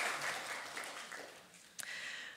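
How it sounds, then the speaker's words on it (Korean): Moderate applause from a congregation at a Korean Sunday church service, fairly even and slightly distant, with a brief sharp sound near the end. "우리 다시 한번 박수하면서"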